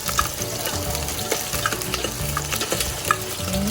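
Garlic and ginger fry in a pan while being stirred, with a steady sizzle and irregular scraping and clinking of the utensil against the pan, close and fairly loud.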